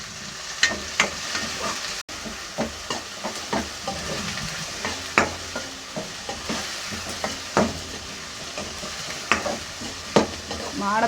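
Food sizzles in a hot pan while a spoon stirs it repeatedly, producing regular scraping knocks over a continuous crackling fry, close and fairly loud.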